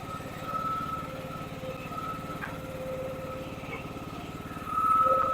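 A Husqvarna TC114 lawn tractor driving slowly, its engine putting out a steady low throbbing drone that swells slightly louder near the end.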